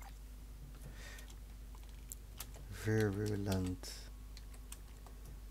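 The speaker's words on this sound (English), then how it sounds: "that's why I don't like typing" Computer keyboard typing during a Warframe gaming session, a steady patter of soft key clicks running under a man's speech in the middle.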